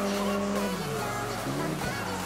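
A BMW M3 E46 GTR races in the video game CarX Drift Racing 2, a continuous loud engine drone with shifting pitch as it changes gears, steady and close without pauses.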